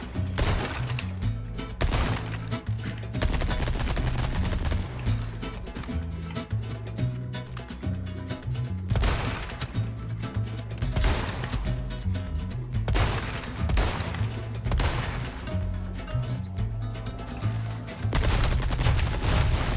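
Rapid, loud gunfire rattles almost without pause in the Resident Evil 4 Remake, heavy bursts and repeated shots mixed with game effects and background music across the whole stretch.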